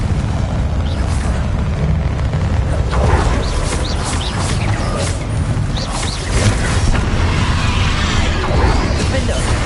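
Confringo fire spells in Hogwarts Legacy burst in a dense run of booming blasts and crackling impacts during combat. The explosions are loud and overlapping over several seconds, with speech mixed in.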